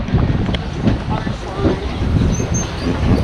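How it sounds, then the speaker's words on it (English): Open-air tram rolling along at Coco Cay, a steady low rumble with wind buffeting the microphone and faint rattles throughout, with people talking nearby. "We were on the tram."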